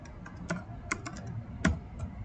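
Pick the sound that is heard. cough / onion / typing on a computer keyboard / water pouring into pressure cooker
typing on a computer keyboard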